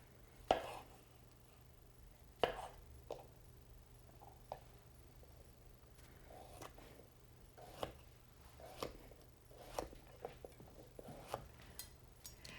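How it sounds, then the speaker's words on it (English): Knife strokes trim the ends off vegetables on a cutting board in a kitchen. Sharp, scattered thunks and chops come at irregular intervals over about a dozen seconds, close but quiet, with soft handling noises between them. "you want to make sure that you are cutting off the ends of this vegetable here"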